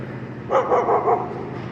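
Dog barking in a short burst of about four close, loud barks.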